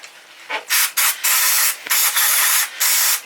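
Cleaner sprayed onto Yamaha MT-09 motorcycle brake calipers in loud, close hissing bursts, about five sprays of varying length separated by brief pauses.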